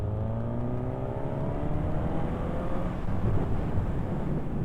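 A Suzuki GSX-S950 motorcycle accelerating hard in third gear, its engine tone rising steadily under heavy wind rush, loud and close as if heard from the rider's position.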